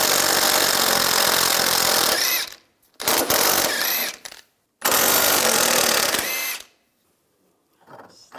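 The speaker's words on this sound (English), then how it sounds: "Using a 17 millimeter socket, take these two nuts off and then this bolt." A power tool driving a 17 mm socket to remove nuts and a bolt during front lower ball joint work on a 2004-2009 Toyota Prius, three loud whirring bursts separated by brief silences, then quiet with faint clicks.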